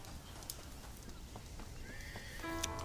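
A horse whinnies loudly and shrilly near the end in the video game Red Dead Redemption, after soft hoof clops and faint background noise.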